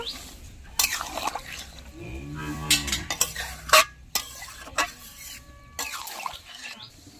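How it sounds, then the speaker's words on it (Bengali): Prawn and pointed gourd curry stirred in a pan, with repeated spoon scrapes and clinks against metal over a low bubbling sizzle, close and irregular, with a brief voice in the middle. "বালি দিচ্ছি এবার একটু নেড়ে চেড়ে নেব"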